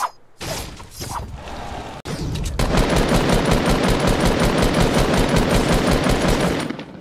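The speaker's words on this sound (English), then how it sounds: "He's shooting at me, guys." Sustained Fortnite gunfire: one sharp shot, then a loud, rapid automatic stream of evenly spaced rounds for several seconds before it cuts off.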